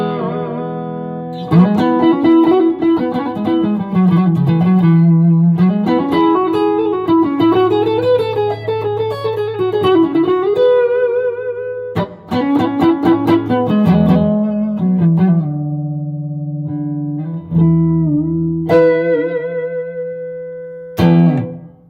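Electric guitar through a Line 6 POD 2 modelling amp, with a processed tone, playing melodic lines and sustained chords with brief pauses, loud and close, no voices.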